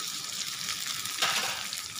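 Chicken pieces dropped into a hot karahi of oil at a Pakistani street food stall, giving a steady, bright frying sizzle with a brief louder surge midway.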